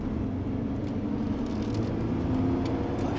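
A 1996 Subaru Impreza WRX V-Limited with all-wheel drive and stiffened factory suspension, heard from inside while driving: a steady, continuous low engine and road drone with no talk.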